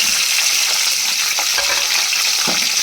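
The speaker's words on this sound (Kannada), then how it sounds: "ಇದನ್ನು ಜಾಸ್ತಿ ಫ್ರೈ ಮಾಡ್ಕೋಬಾರ್ದು. ಅನಾನಸ್ ಅಷ್ಟು ಸ್ವಲ್ಪ ಫ್ರೈ ಮಾಡ್ಕೊಂಡ್ರೆ ಸಾಕು." Star fruit pieces sizzling in a pan as a gojju is cooked, a loud steady frying hiss with faint stirring scrapes, no voices.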